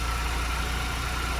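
Car engine idling steadily while its cooling system is bled, a continuous low rumble with a steady hum, near and even throughout with no talk.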